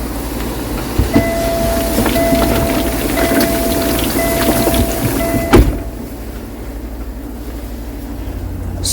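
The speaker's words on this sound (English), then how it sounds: "It's really starting to rain now." Heavy rain pouring outdoors, a steady dense hiss with occasional louder drops and a faint repeating beep, then dropping to a softer, more muffled patter partway through.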